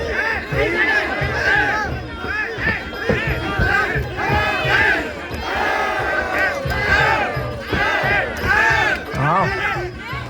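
Crowd at a Thai boxing match cheering loudly in rhythmic, rising chants, voices surging in waves throughout, with a commentator talking over them.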